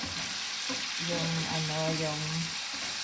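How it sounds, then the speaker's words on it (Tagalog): Garlic and onion sautéing in a pan, a dense, even sizzle filling the whole stretch, with a brief voice-like hum partway through. "Ang paggisa ko po ng ang bawang at saka ng sibuyas."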